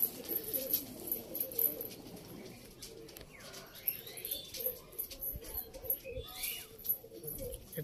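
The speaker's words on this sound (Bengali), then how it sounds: "আরেক জোড়া পায়রা দেখাচ্ছি" Pigeons coo softly in a loft, low murmuring calls repeating quietly under faint background movement and scattered small noises.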